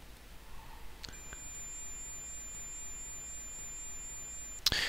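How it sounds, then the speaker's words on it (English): A multimeter in continuity mode gives a steady high-pitched beep across a shorted 5-volt-standby rectifier diode in a dead Zalman ZM400-GVN ATX power supply. The faint tone holds for several seconds in a quiet room and ends with a brief click. "If we connect the probes to either side of this diode, well, we get"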